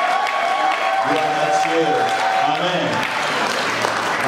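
A church congregation applauds and cheers continuously to praise the Lord at a New Year celebration, a dense, steady wash of clapping with voices mixed in throughout.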